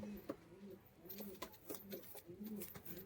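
High-flying pigeons kept for sale coo in soft, repeated low rolling calls, several overlapping across a few seconds, heard close and clear.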